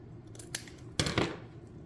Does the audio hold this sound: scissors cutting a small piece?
yes